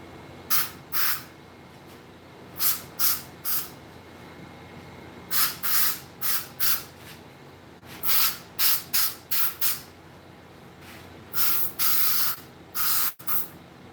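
Airbrush sprays paint onto masks in a series of short hissing bursts, some quick pairs and some longer blasts, close and fairly loud with quiet pauses between.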